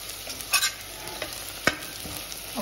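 Onions fry in a pan for a Goan prawn pulao, a soft steady sizzle broken by a few brief scraping stirs, close and quiet with no talking.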